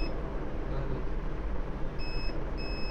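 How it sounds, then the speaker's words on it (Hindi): A multimeter's continuity buzzer beeps while probing IC pins on an X653 board, coming as two brief steady tones near the end over a constant background hum, with no talk. "ये देखो इस पॉइंट से हमें बजर मिल रहा है"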